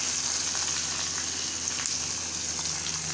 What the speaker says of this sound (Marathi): कांदा थोडा भाजून घ्यायचा।